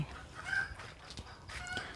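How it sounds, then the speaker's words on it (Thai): A rooster clucks faintly in the distance in a lime orchard, under steady outdoor ambience with no talk. "ได้ยินเสียงไก่ปะคะ"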